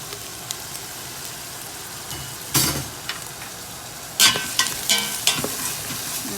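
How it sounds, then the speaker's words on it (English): Cut vegetables for squash and beef fry in a pot with a low, steady sizzle, then loud close bursts of crackling and scraping as the mixture is tossed, several in quick succession near the end. "Throw everything into the pot. I want everything to be fried up really nice."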